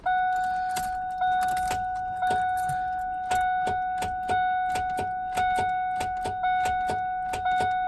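A 1993 Ford Mustang Foxbody with a failing starter won't crank. Sharp, evenly spaced clicks repeat about once or twice a second over a steady electronic warning chime, close and fairly loud, with no engine catching.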